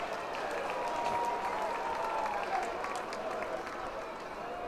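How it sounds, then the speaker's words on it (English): Baseball crowd of Driller fans at a Tulsa game applauding a strike, a steady distant wash of clapping with a commentator talking over it. "Driller fans applauding that strike there"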